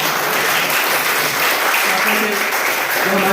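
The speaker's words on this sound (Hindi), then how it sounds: "तालियां भी बहुत कम है लोगों की।" An audience at an office Hindi-fortnight poetry recital claps steadily, a dense, loud patter of many hands that carries on throughout.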